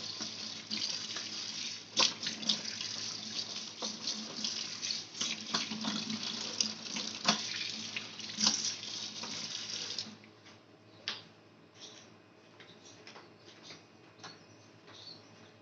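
Tap water running into a kitchen sink during cleaning, a close hissing splatter that varies as the stream hits the basin, then quieter trickles and drips once the flow eases; no talking.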